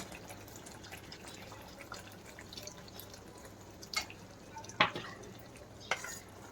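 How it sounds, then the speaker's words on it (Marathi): Water goes into a simmering paneer tikka masala gravy in a home kitchen: soft sizzling under a few distinct splashes and drips, close by with no voices. "आता तुम्हाला ग्रेव्हीच्या हिशोबाने पाणी टाकून द्यायचं आहे."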